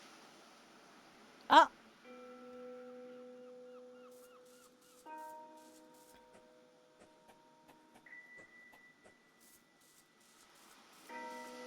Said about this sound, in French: Ça fait des sons de cloche.